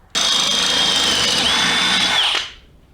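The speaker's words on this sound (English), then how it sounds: "And then drill out the center hole" A power drill bores out the center hole of a transmission mount on a 1999–2004 Jeep Grand Cherokee, running as one loud, steady whine for over two seconds before spinning down.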